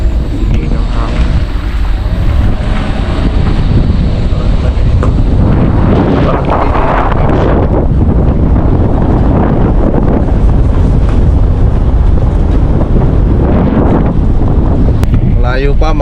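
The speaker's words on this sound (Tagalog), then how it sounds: "Malamig ng hangin." Strong cold mountain wind in Nagcarlan, Laguna buffets the microphone in a loud, continuous roar, with low rumbling gusts throughout.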